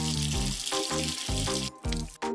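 Water runs from a hose into a crypt, a steady rushing stream with small breaks, close and fairly loud, with no talk over it.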